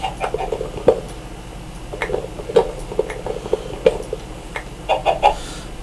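Minecraft chickens cluck in short, scattered bursts over a low background hum, several soft calls spread irregularly and a cluster of brighter clucks near the end.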